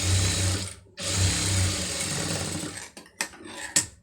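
An electric sewing machine stitches a star neck blouse up close, humming with a steady rapid needle rhythm, pausing briefly and resuming, then ending with a few clicks and handling knocks.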